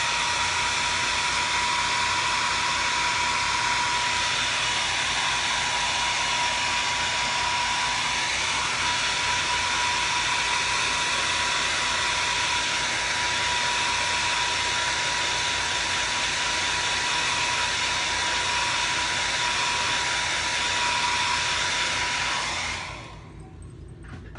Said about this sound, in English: And then I'll just use my blow dryer to speed up the drying process